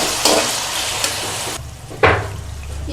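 Potatoes stirred and frying in oil in a karahi, giving a constant sizzle broken by a few sharp scraping stirs and one louder swish near the end, with no talking.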